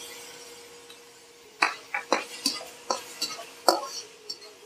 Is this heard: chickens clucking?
no